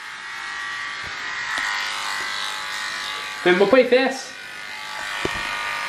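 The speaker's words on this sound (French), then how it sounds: "se raser les cheveux" Electric hair clippers buzz steadily through a man's head shave at home, a continuous nearby drone with people speaking French briefly over it.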